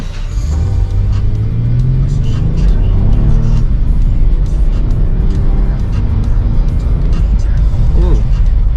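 A teenager's first car accelerates toward 40 mph, its engine rumbling loud and close as it climbs in pitch through rising gears, with people talking over the noise inside the cabin.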